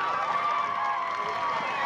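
Crowd noise at a 2022 Linden homecoming football game, a steady broad roar of cheering and applause sustained throughout with voices mixed in, fairly distant and even in level.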